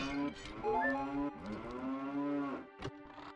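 A cow moos in Ocarina of Time, a long harmonic bellow with a rising pitch that lasts about two and a half seconds, sounding alone and clear before a brief click.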